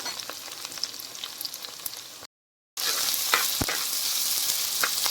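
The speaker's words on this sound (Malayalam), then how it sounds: "നമുക്കിതിനെ ഒന്ന് വഴറ്റിയെടുക്കാം" Shallots, garlic, green chili and ginger sauté with salt for sardine curry, a close, steady sizzle with scattered stirring scrapes, cut by a brief silent gap before the frying resumes louder.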